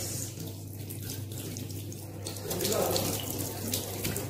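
Water runs steadily from a tap at a sink during hand washing, a close, continuous splashing that grows slightly louder midway.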